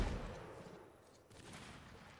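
A gunshot in the Napoleonic-era video game Mount & Blade: Napoleonic Wars lands as one loud, booming blast that fades into a long rumbling tail, with a softer swell of noise after it.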